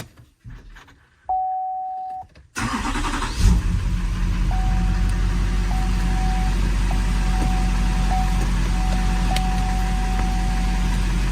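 A Chevy Silverado Duramax truck fitted with a hydro boost brake system starts up after a warning chime, then settles into a loud, steady diesel idle, with a faint chime repeating in the cab.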